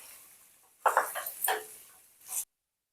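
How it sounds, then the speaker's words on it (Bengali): Taro stolons stirred and fried in hilsa fish oil in a pan. A spoon scrapes and clatters for about a second and a half, with a final scrape before the sound cuts off. "এবার কচুর লতির সঙ্গে মাছের তেলটাকে ভালো করে মিশিয়ে নিয়ে কিছুক্ষণ ভাজবো"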